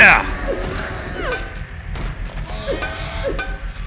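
Metal pipe striking enemies in Silent Hill 3, several dull heavy thuds in an irregular rhythm, close and fairly loud, mixed with game noises and brief creature cries.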